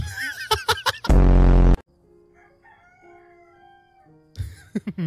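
A rooster crows once, loud and close, a long harmonic call followed by quieter ambient noise, with short bursts of speech before and after.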